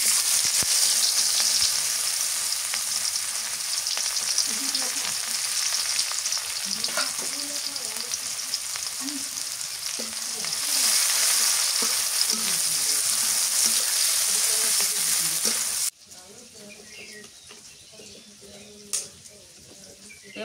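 Chopped onion fries in oil in a pan over a clay stove, a loud continuous sizzle with stirring scrapes, then the hiss drops sharply near the end while a voice speaks faintly.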